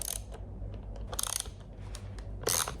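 A ratchet wrench loosens the nuts holding an Audi S5 steering wheel, giving short bursts of close mechanical clicking, most dense around the middle and the end, over a low steady background.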